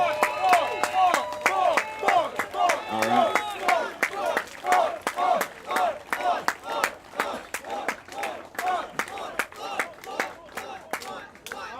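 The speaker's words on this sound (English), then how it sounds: "want y'all all to please have a great round of applause as I bring my father up" A crowd at the grand opening of a candidate's Atlanta mayoral campaign headquarters claps in a steady unison rhythm while voices cheer and chant over it, with a brief spoken interjection.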